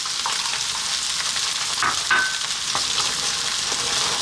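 Two eggs frying in a little oil in a pan for tuna broccoli fried rice, giving a steady close-up sizzle with a few scattered pops and crackles and no voices.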